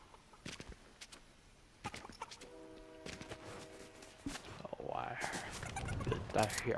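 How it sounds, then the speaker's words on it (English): A train rumbles past in Fortnite, its horn sounding as a steady tone before the rolling, swelling rail noise grows louder near the end, with clicks of game sounds scattered through. "I heard the train."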